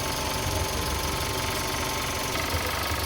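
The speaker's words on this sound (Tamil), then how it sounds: "வண்டி ஓடுதா இல்லையான்னு தெரியாத அளவுக்கு இன்ஜின் பார்த்தீங்க அப்படின்னா அப்படி ஒரு ஸ்மூத்தாக இருக்குதுங்க" A 2007 Maruti Suzuki SX4 Zxi petrol engine idles smoothly and steadily, a close, even mechanical hum with a faint rhythmic tick and no variation, with no voices.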